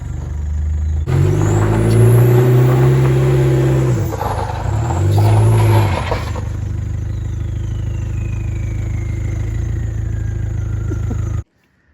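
A Land Rover engine revs hard while pushing a second Land Rover whose brakes are seized, loud and close. Strong surges come in two bursts, then it settles into a steady drone before cutting off abruptly.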